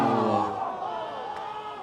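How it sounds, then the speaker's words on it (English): Crowd at a high school girls' soccer game roaring and cheering loudly at a breakaway, the shout dying down over a couple of seconds with voices mixed in. "We can hear our crowd Going off right now."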